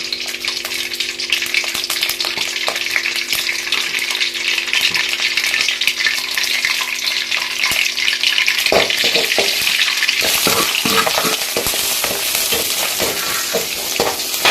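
Chopped onions, mustard seeds, curry leaves and green chilies fry in hot oil for a potato masala, a loud, continuous crackling sizzle that bursts into sharper spattering pops partway through.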